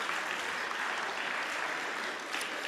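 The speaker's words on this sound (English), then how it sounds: "Give yourselves a clap." A congregation at a Sunday service claps together, a steady, fairly quiet patter of many hands heard from a distance that continues without pause.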